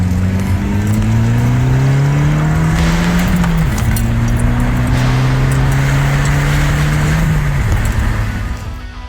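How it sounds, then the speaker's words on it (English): A 2013 Dodge Dart engine revs up and holds a steady drone, its pitch rising and sliding between gears, loud and close, then easing off at the end. "Those car sounds were sent in by Scott, his 2013 Dodge Dart."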